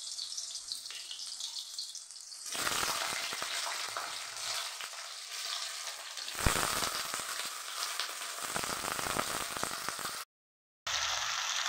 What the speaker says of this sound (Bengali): আলুগুলো অল্প করে ফ্রাই করে নেব